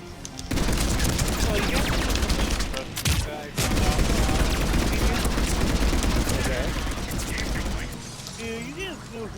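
Sustained rapid machine gun fire from the Reverent in the video game Mass Effect 3, dense and loud with mechanical clatter, running nearly continuously with a brief gap, under a voice talking.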